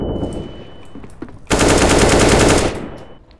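Counter-Strike gunfire: a few scattered shots lead into a loud, sustained automatic burst lasting about a second, then a fading tail, with no voices over it.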